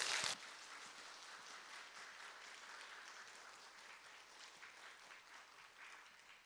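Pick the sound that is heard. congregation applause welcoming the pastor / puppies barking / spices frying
congregation applause welcoming the pastor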